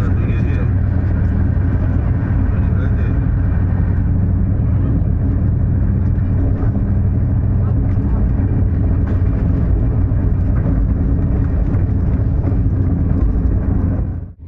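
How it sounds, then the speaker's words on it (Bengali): Interior of the AC two-tier coach on the Puri-Sealdah Duronto Express running fast, a loud, steady low rumble and rattle of wheels and carriage throughout, ending abruptly. "এত জোরে ট্রেন যাচ্ছে, দাঁড়ালে পড়ে যাচ্ছি"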